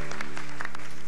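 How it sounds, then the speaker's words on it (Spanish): Audience applause on a Spanish youth quiz show, La Liga Juvenil de la Neurona, after a contestant wins a round; a short, steady burst of clapping over a constant low hum, with no talk. "Un aplauso para él."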